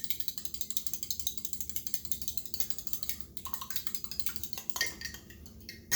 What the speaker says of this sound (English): I added some milk in here, so I'm just gonna stir that up a little bit